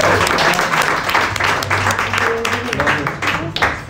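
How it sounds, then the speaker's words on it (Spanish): A crowd at a live presentation in Mexico applauds steadily for a few seconds, the clapping dense and lively, with a low hum underneath. "Les pido por favor que reciban con un gran aplauso a César Luis."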